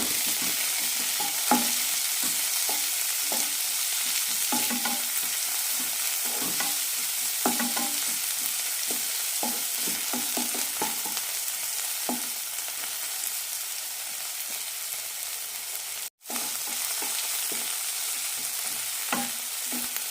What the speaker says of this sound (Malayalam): തക്കാളി ഇടാം കൂടെ തന്നെ കറിവേപ്പിലയും നന്നായി വഴറ്റാം